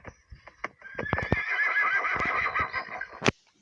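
A horse in a video game gives a loud, drawn-out whinny, framed by sharp hoof clops before and after, close and clear with no talking over it.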